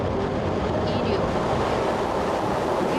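The Nuri rocket's engines roar at liftoff as a steady, dense, broadband rumble that fills the whole stretch without pause, heard from a distance.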